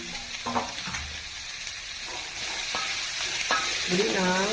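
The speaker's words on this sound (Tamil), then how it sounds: "இப்போ தள்ளி வச்ச முட்டைகோச நான் போட்டு கொஞ்சம் கிண்டி கொடுக்கணும்." Cabbage tossed into a hot frying pan sizzles steadily while a spoon scrapes and stirs it in a few short strokes, heard up close with no one speaking.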